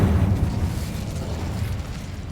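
Spell explosions from the video game Hogwarts Legacy: a loud, rumbling burst at the start that decays into a rolling, crackling roar with low boom energy, close and alone without talk.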